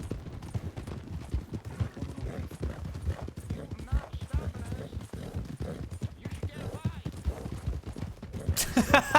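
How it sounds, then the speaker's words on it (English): Horse hooves clip-clop at a gallop in a western video game, a steady rapid beating under shouted game dialogue, with a burst of gunfire-like noise near the end. "Stop the horse now."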